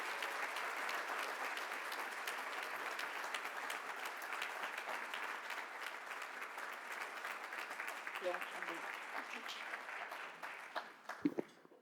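Steady, sustained audience applause at a Dartmouth social impact summit welcoming a keynote speaker, dense clapping from a large crowd that tapers off near the end, with a voice briefly heard.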